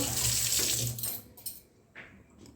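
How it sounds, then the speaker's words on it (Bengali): Tap water runs steadily into a sink as three slippery pieces of fish are rinsed by hand, a continuous close splashing hiss that thins toward the end with a few brief clinks. "মাছটা এবার ভালো করে ধুয়ে নেব"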